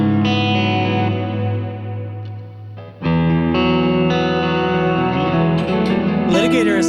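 Distorted electric guitar chords ringing out through a heavy Line 6 amp-modeler tone with a large, washy reverb tail, a brief drop before the chords resume.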